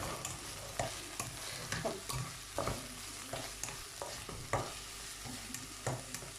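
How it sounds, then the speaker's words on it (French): Chopped onion and two cloves of garlic fry in oil, giving a soft, fairly quiet crackling sizzle broken by repeated clacks and scrapes of a utensil stirring the pan at an uneven rhythm. "On va laisser l'oignon chahar mzien, se dorer un petit peu."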